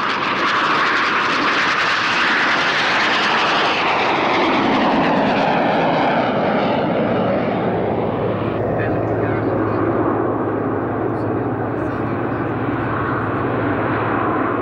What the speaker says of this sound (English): They're twin-seaters, powered by a Rolls-Royce Viper 680 turbojet with a top speed of 600 miles an hour.